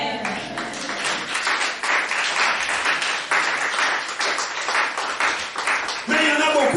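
A church congregation claps and cheers together in a continuous, loud wave of applause that holds steady for several seconds, with a voice rising over it near the end.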